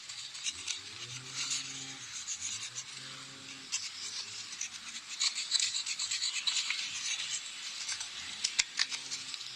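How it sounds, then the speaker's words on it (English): A knife blade scratches the bark of a guava branch being prepared for air layering, giving a steady close-up rasping scrape that runs throughout with small bursts, alone without talk. "Now scratch it with the knife."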